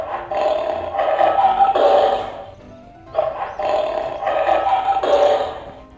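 A tiger roars loudly and close, two long rumbling roars separated by a brief pause, with no talk over them.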